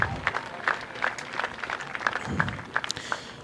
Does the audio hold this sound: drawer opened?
no